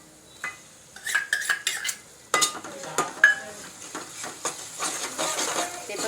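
Mutton with green masala paste and onions sautéing in a pan for an Agri-style mutton dish, with repeated scraping and stirring clinks of a utensil against the pan over a light sizzle, close and steady.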